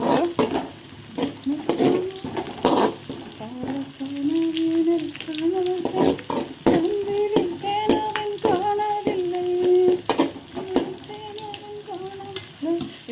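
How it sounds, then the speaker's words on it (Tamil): Chopped onions fry in a pan for an egg curry, a steady sizzling crackle that runs through the whole stretch beneath a melodic, tonal background sound. "நல்லா வெங்காயம் பொரியல் பார்த்தீங்களா வெங்காயம் நல்லா போடுங்களா வந்துருக்கு"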